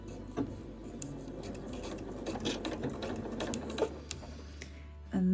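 A sewing machine stitches zipper tape on a zippered pouch, running in a quiet, steady whirring burst with light clicks and short pauses, near and alone.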